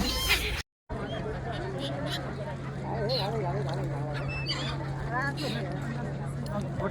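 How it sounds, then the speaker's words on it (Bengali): Migratory birds call over the Triveni confluence of the Saraswati, Kapila and Hiran rivers near Somnath. Several overlapping honking and warbling calls sound at middle distance under a steady low hum, with someone talking throughout. "দেখতেই পাচ্ছেন কত পরিযায়ী পাখি।"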